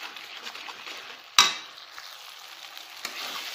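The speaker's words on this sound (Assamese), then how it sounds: "এইখিনি খুব ভালদৰে ভাজি ল'ম মই" Spice masala for mutton curry fries quietly in a pan with a soft, steady sizzle and stirring, broken by one sharp metallic clink of a utensil and a fainter knock later.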